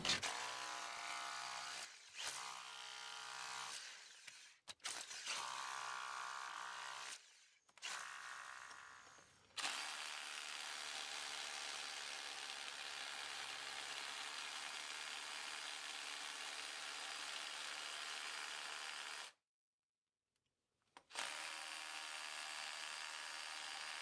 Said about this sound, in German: Bohren auch mit einem größeren Bohrer überhaupt gar kein Problem